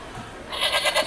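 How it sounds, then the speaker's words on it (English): Sheep bleat played from a button on a children's farm animal sound book, a single short electronic bleat that starts abruptly and sounds fairly loud and close. "That's sheep, baby. That's supposed to be ba."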